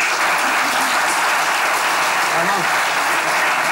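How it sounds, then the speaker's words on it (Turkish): A studio audience at a stand-up comedy show breaks into loud, continuous applause that holds steady for a few seconds, and a voice speaks briefly over it. "Kocaman alkışlar dayı"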